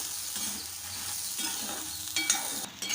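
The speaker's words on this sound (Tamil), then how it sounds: "இந்த மாதிரி மிளகா உப்பு ரெண்டையுமே நம்ம சேர்த்து வறுக்கும் போது மிளகா வந்து நெடி இடிக்காமல் இருக்கும்" Red chilies and salt being dry-roasted together in a pan for idli podi, with a soft rustling scrape of stirring and a few louder clinks of the spatula near the end, close and without speech.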